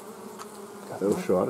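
Honeybees buzz near a brood frame lifted from a weak nucleus colony, a low droning hum that swells into louder close passes near the end, with a brief spoken word.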